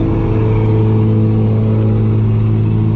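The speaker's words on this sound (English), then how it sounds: "Make that truck a little bit louder there." A truck engine runs with a steady low rumble and strong droning tones, holding at a loud, even level throughout with no one talking.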